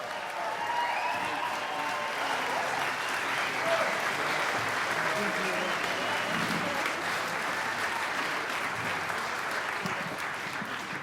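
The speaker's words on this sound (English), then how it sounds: "let's just give all of those people one more round of applause" Sustained audience applause fills the hall at a tribute concert, a steady dense wash of clapping that holds evenly for the whole stretch without pause.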